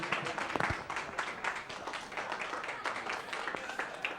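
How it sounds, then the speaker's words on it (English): A stand-up comedy audience applauds, a dense, uneven patter of many hands clapping at moderate volume throughout. "give a big round of applause for my good friend and fellow welfare recipient"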